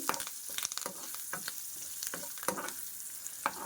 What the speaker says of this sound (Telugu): కరివేపాకు ఇవి ఫ్రై చేసుకోవాలండి మనకి పకోడీలోకి వేసుకుంటే క్రంచీగా చాలా బాగుంటుందండి